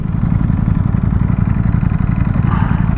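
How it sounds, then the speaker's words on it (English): A motorcycle engine drones loud and close on a road, a steady throbbing rumble that holds constant for the whole stretch, heard from a ride through Las Vegas toward Red Rock Canyon. "Ooh, that bike sounds pretty good."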